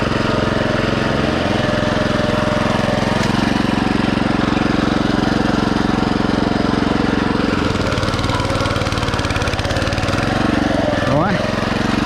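A Champion BC5712 motor cultivator runs continuously while hilling potatoes in a field, a loud, close, steady engine drone with some rough labouring and small pitch shifts near the end.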